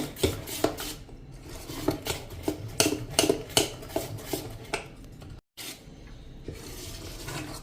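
Salt being stirred into a dal and rice dosa batter, a spoon scraping and clinking against the bowl in a steady, uneven rhythm of close knocks and rasps, with one brief silent break.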